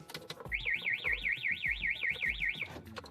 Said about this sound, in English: The alarm will go.